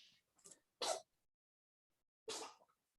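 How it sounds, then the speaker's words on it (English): A sneeze heard during an online tabletop role-playing game session, two short bursts, one sharp and the other longer and breathy, separated by a pause; faint and distant, with no talk over them. "She's just taking a drink and it sneezes."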